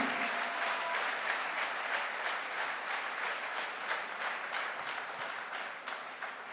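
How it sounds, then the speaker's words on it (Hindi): Steady applause from an audience at a direct selling promotion event in Goa, a dense wash of clapping that holds at a moderate level throughout without pause. "बड़ी ठंडी ठंडी सी तालियां बज रही है यार।"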